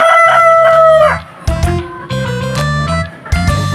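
A Rhode Island Red crossbreed native rooster crows loud and close in two long harmonic calls, with clucking chickens and more fowl calls around it.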